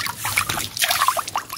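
An outdoor tap runs for washing on a hot day, a close, uneven trickle of water that splashes and patters steadily.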